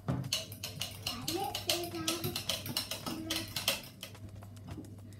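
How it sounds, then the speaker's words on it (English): Water and yogurt being stirred together into Turkish ayran, giving a quick run of irregular close tapping and clinking strokes that fade toward the end, with a young voice speaking briefly in between. "You have to mix the water and the yogurt well until it's all smooth."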